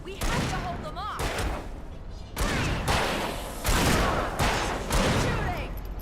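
Rapid bursts of gunfire in the video game Shadow Men, loud and dense, coming in repeated waves with layered booms and thuds while voices talk over the fighting.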